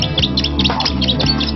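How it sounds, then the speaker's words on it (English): A piece of polystyrene rubbed against a glass jar gives rapid, bird-like high-pitched squeaks in quick irregular bursts over a low steady hum, close and fairly loud. "high-pitched squeaking calls will often work. Rub a piece of polystyrene on a glass jar."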